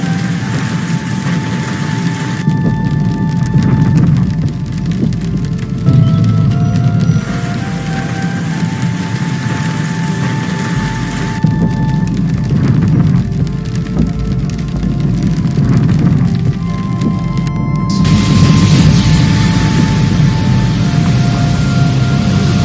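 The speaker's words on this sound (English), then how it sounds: "Look at the size of the hail." Heavy rain and hail pour onto surfaces during a hailstorm in the Emirates, a loud, dense, unbroken roar across the whole stretch with faint rumbling underneath.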